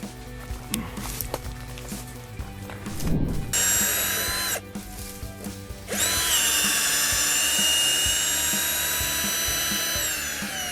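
A power drill bores into the trunk of a Siamese rosewood (Huang Hua Li) tree in a palm plantation in Surat Thani. After some knocking and clatter, a short high whine rises, then a loud, steady drilling whine runs unbroken to the end.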